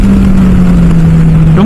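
A Kawasaki Z800 motorcycle exhaust note while riding: a loud, close, steady droning engine tone held at an even pitch, with only a slight dip toward the end.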